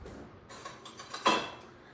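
A whisk scrapes and clinks against a bowl while eggs and vanilla extract for a ricotta tart are beaten, giving a few light metallic taps and then a sharper ringing knock near the end, fairly close and without talk.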